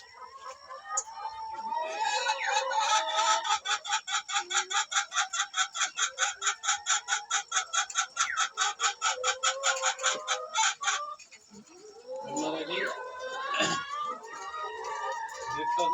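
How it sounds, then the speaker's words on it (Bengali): Backyard chickens cluck and cackle nearby, one bird repeating a long rapid pulsing call for several seconds before a few looser squawks, with faint voices in the background. "সুন্দর একটা মুরগি"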